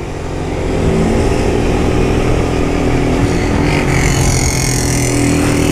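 Up close, a Honda Titan 160 with an open, filterless modified exhaust is revved and held at a loud, raspy, sustained throttle that fills the whole stretch.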